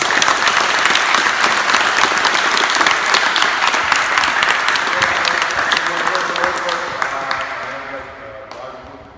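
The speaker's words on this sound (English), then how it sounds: "let's give them a better round of applause" Audience at a basketball camp gives a round of applause, loud, dense clapping with some cheering that gradually fades toward the end, with a bit of voice mixed in.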